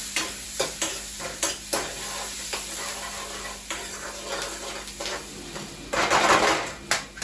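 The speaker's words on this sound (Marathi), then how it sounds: "बारीक चिरलेला कांदा आणि कढीपत्ता सोबतच टाकून घेऊ छान याला मस्त असं परतवून" Finely chopped onion and curry leaves sautéing in a pan for a Maggi dish: a constant close sizzle with repeated spatula scrapes and stirring knocks, growing louder and harsher near the end.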